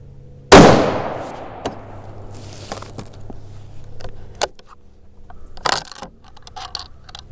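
A single sharp, loud shot from a Ruger M77 rifle in .243 Winchester firing a hunting load, ringing out and decaying, followed by scattered faint clicks and knocks.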